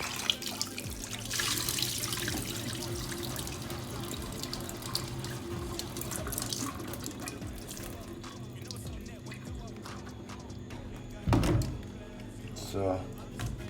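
Running tap water pours steadily over raw fish being washed in a sink while a Jamaican curry fish is prepared, with brief splashes and clatter toward the end and speech over it.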